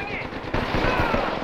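Automatic weapon fire in an Apex Legends ranked match crackles in a loud, continuous stream of shots, close and busy, with players talking over it.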